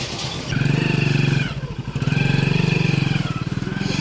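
A Hero Splendor Plus motorcycle, fresh from a timing chain repair, idles with a smooth, quiet thrum, then revs twice as it pulls away nearby, the engine note rising and falling in short bursts.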